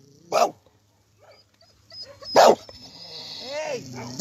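Small stray dogs barking close by, with two sharp loud barks a couple of seconds apart followed by higher yelps and whimpers, while a person speaks faintly in between.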